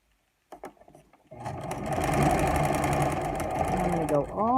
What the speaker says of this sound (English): sew right along the edge, making a casing there on that 1/4 inch that we folded over